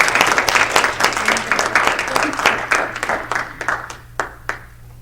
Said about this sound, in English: I would give them an applause